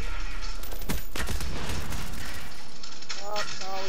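Rapid gunfire from the Call of Duty Black Ops video game, dense bursts of shots with booms and mechanical clatter, loud and continuous across the clip, with a voice briefly talking over it.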